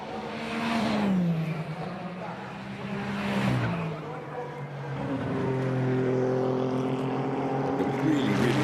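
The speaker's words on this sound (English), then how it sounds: "The really distinctive sounds of both the Le Mans hypercar and also the 296 GT3" A Ferrari Le Mans hypercar and a Ferrari 296 GT3 race car run at the Imola circuit during the 2022 Finali Mondiali. Loud engine notes rise and fall in pitch as the cars rev and pass.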